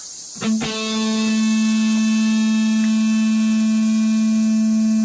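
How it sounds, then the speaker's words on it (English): A single plucked guitar note rings out steadily with a clear, sustained tone, slowly losing strength as it hangs in the air, with no talking. "as you let that note hang, what you're going to have is the sound getting weaker and weaker"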